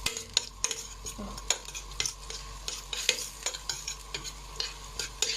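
Seafood sizzles as it is stirred and sautéed in a pot for seafood soup, with a steady soft frying hiss and frequent small scraping and clinking stir strokes throughout, fairly quiet and close.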